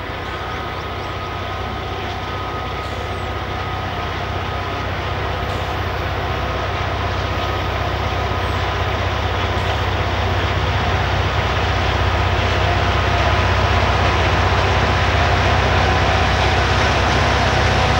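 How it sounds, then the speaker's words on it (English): A freight train led by a single SD-40-2 locomotive, long hood forward, rumbles past outside Dexter, Michigan, with a load of cars; a steady, loud mechanical roar and rolling rumble builds gradually as it draws nearer. "Just outside of Dexter, Michigan, we find the weekday local NSB-25 on its way to Jackson with a load of cars, with a single SD-40-2 leading the train"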